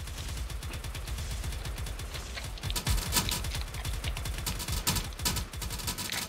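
Rapid automatic AK-47 fire in the video game Harbor Havoc, a dense, steady stream of rattling shots running the whole time, growing heavier partway through, with no talking.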